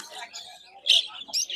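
Small caged birds, including doves, chirp and call at a busy open-air bird market, with a quick run of bright tweets rising and falling close by and several overlapping calls.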